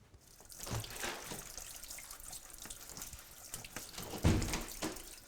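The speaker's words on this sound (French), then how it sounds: "j'ai renversé un café avec 2 sucres dedans, alors si je rince pas, les touches vont coller" Tap water runs over a keyboard being rinsed after sweet sugared coffee was spilled on it, a steady close splashing stream with brief louder gushes and handling noise.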